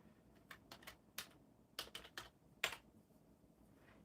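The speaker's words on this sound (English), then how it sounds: "Typing in the chat, making sure it works perfectly." Light clicking of computer keys being typed during a live stream, a run of quiet irregular taps with a few sharper, louder strokes, alone without talk.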